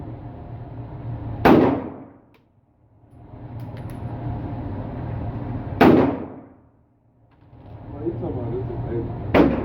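A 300 Blackout firearm fired at an outdoor gun range: three loud, sharp reports a few seconds apart, each trailing off in a long echo, with faint background noise between shots.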